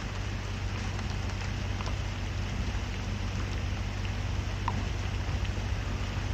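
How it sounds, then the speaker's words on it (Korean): Steady, dense rain falls outdoors at a museum lookout in Manaus, Brazil, near the Amazon. It makes an even, continuous hiss close by with no voices. "비 내리는 소리가 듣기 좋아서 저도 자꾸 말을 하다 말고 멍하니 빗소리를 듣게"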